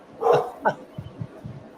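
A dog barks a few times, one loud yip followed by a shorter bark and softer whimpering sounds, close by and alone.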